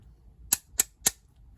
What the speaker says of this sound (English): take out your mallet and just kind of start banging on it